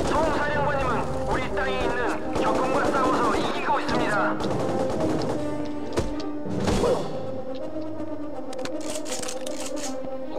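Machine gun fire and explosions from the video game Mercenaries: Playground of Destruction, heard as rapid bursts and heavy thuds mixed with game sound, while a person talks over them.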